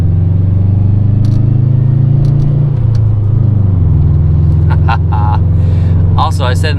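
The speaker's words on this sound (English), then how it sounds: "it surely does have the typical Subaru rumble, which is what they're known for" A 2013 Subaru WRX hatchback with a manual gearbox rumbles steadily and loudly from inside the car while driving, and its engine note drops and settles partway through as the revs change.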